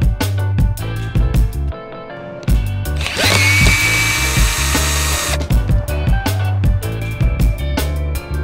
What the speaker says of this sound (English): So we're going ahead and swapping all those screws to get a more watertight seal.